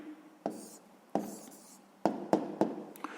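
Pen strokes on paper as a math answer is written out by hand during a lesson, with a few short scratchy strokes separated by pauses, quiet and close.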